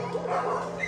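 French bulldogs yip and whimper in a short, fairly loud burst of small-dog noise over a steady low hum, with no clear single bark standing out.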